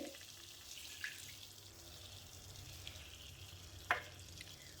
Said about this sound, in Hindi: अब इसमें हम वाटर ऐड करेंगे